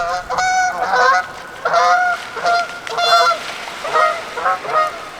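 Repeated loud goose honks in quick bursts, several birds calling over one another at close range with short gaps between calls.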